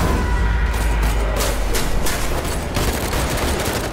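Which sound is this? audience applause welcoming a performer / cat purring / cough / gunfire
gunfire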